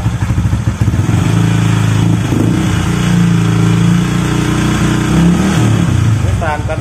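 A Honda Vario scooter fitted with a copy CMS exhaust is revved in repeated blips over a rough, burbling idle. The exhaust note is loud and close, with someone talking over it.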